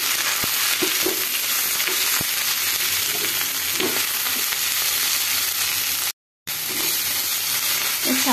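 Sunsuniya greens sizzle and fry in a pan while being stirred and pressed, a steady loud crackling hiss with occasional scraping stirs and a brief silent gap near the end.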